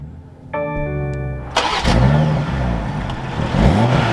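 A 2024 BMW 840i xDrive Coupe cranks with a brief whine, then its engine catches and flares into a loud rev before settling to a steady, rumbling idle close by.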